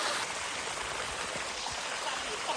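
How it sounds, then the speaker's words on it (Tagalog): Heavy rain pours steadily during a mountain hike in Kibungan, Benguet, a dense, continuous hiss close around the listener with no break across the moment. "inabutan na kami ng malakas na ulan"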